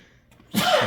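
A single sharp human sneeze bursts out suddenly after a near-silent moment, loud and close.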